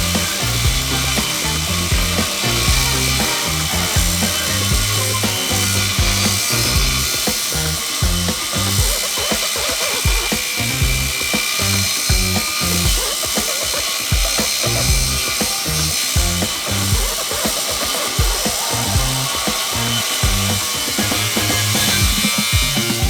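Angle grinders fitted with a Mad Dog diamond wheel and a 4.5-inch abrasive cutoff wheel cut half-inch steel, a harsh continuous grinding screech with rough rhythmic chattering under load, loud and close throughout.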